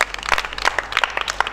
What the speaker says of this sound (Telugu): మరి చప్పట్లతో జాహ్నవిని అభినందించండి